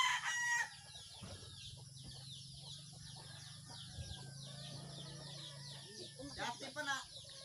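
Three chickens being weighed on a scale cluck and squawk at close range, with a loud burst at the start, a low steady hum underneath and more agitated clucking near the end.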